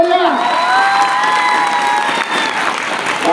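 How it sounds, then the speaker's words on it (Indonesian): Students at SMPN 3 Singkawang school in West Kalimantan applaud and cheer for a visiting MNC Group film director, with steady clapping and whoops filling the hall close by and without pause. "beri tepuk tangan beliau ya."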